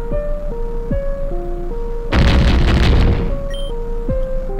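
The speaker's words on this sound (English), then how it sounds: "It's going to explode!" An overheating power room explodes in the Pokemon Uranium game: a loud, roaring blast of about one second over a looping electronic alarm melody that keeps playing before and after.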